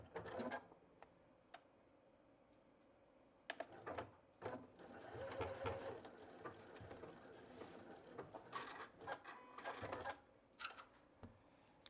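Home sewing machine stitching a small fabric chapstick clip holder for a purse zipper, running in bursts of steady mechanical whirring with pauses between runs, close and moderately loud, with no talk over it.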